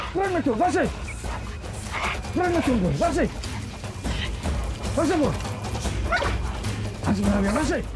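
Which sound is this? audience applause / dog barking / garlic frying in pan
dog barking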